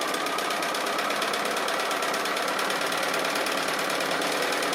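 A machine stitches a tree appliqué in a steady, fast, buzzing rhythm that holds constant and close throughout, with no voices over it.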